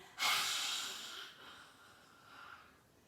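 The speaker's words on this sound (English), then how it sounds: "We're going to do a little lion face here where we stretch out our whole face and our tongue comes out as an auto exhale" A yoga lion-face breath: one forceful open-mouthed exhale with the tongue out, starting as a sudden loud airy rush that tapers off over a couple of seconds, close and alone.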